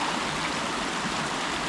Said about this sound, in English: So this is a river here.